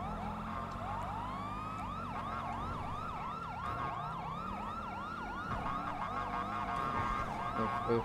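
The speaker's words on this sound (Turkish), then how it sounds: "Sirenleri açtı" A police siren in the GTA 5 video game wails in a fast rising and falling yelp over engine and traffic noise, loud and continuous throughout.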